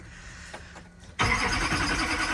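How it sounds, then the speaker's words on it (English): A Duramax truck engine on a cold morning cranks and catches abruptly after a quiet moment, then runs loud and rough with a clattery, rattling idle close by. "Oh, I've got to figure out what that rattling is. It's driving me crazy. It only does it when it's cold."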